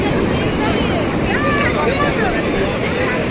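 Sea waves on the beach at Puri in the morning, a loud continuous roar of surf with wind buffeting the microphone, while people talk nearby through it.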